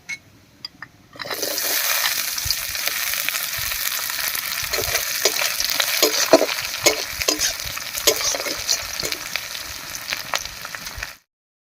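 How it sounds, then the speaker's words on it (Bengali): Chopped onions fry and sizzle in a pan after cumin seeds, with steady loud crackling and repeated stirring scrapes throughout, no talking. "পেঁয়াজটা বেশ ভাজা হয়ে লাল লাল হয়ে গেছে"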